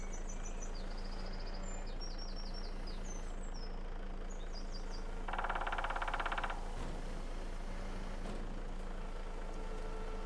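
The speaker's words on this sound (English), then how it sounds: "It sounds like a woodpecker." A rapid woodpecker-like rattling in Farming Simulator 25 during logging, a fast burst of clicks lasting about a second over a steady idling engine drone, with chirping birds earlier.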